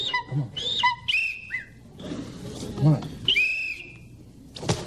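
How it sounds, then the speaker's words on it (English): Several short, sharp whistle blasts sound in bursts to call a trained bird to a lure, some rising or sliding, mixed with whimpering yips and low voices nearby. "blow the whistle again"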